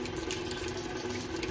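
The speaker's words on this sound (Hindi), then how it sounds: "ये जो इसका गंदा पानी ये भी निकालते हैं" Dirty soaking water is poured out in a steady, continuous splashing flow, close by with no talking.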